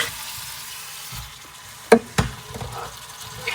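Potatoes tipped into darkened masala frying in a pan, a soft steady sizzle broken by a couple of sharp clattering knocks as they land and are stirred.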